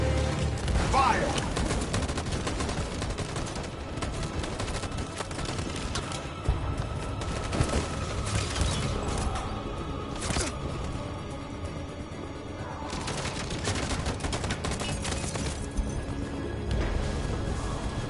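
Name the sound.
gunfire in a PS4 video game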